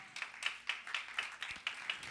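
A church congregation claps in a steady rhythm, about four claps a second, each sharp and moderately loud, with no voices over it.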